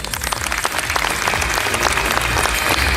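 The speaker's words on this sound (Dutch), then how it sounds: "graag uw applaus voor Micha Moors" A dense, loud burst of audience applause at the Miss Wellness Beauty 2019 pageant, with many hands clapping steadily for the full few seconds and no voices over it.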